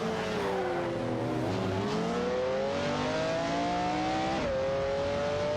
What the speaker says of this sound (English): 704 Lamborghini Diablo GTR are locked in a tight battle for 6th place